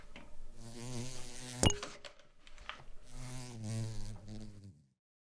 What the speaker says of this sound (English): Another bee? Yeah. Almost got me.